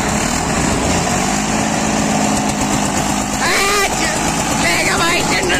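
An Eicher 242 tractor engine runs hard at full throttle during a tractor tug-of-war contest against a Standard tractor, a loud steady drone that fills the whole clip while people shout and cheer over it.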